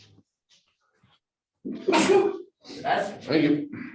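A sudden sneeze bursts out near the microphone during a city council meeting, followed by a brief spoken reply.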